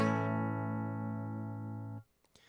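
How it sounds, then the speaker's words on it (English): An electric guitar is recorded through a Pro Tools input, sounding one sustained chord that rings steadily for about two seconds and then is cut off, followed by faint handling clicks. "I should be able to hear a guitar."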